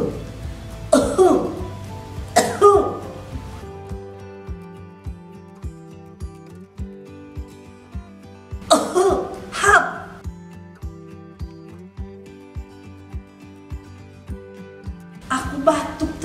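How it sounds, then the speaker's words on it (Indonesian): Several bursts of coughing and throat clearing ring out at intervals, loud and close, over a steady backing of rhythmic music. "aku batuk terus."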